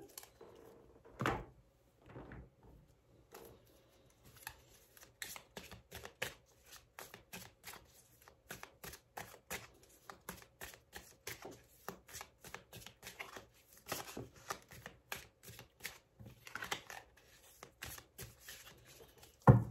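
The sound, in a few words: shuffling tarot cards for a reading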